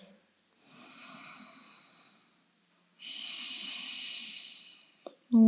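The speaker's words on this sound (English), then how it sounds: "And take 2 more breaths." Two slow, deep yoga breaths come through close and intimate, each a long airy inhale-exhale with a soft nasal rasp, separated by silence before a brief sharp knock at the end.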